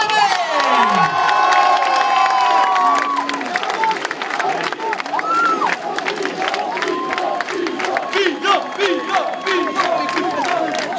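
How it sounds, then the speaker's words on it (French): A crowd at a football club open day cheers and applauds loudly for a returning player, with children's shouts and whoops rising over continuous clapping. "Applaudissements pour Bison Gomez"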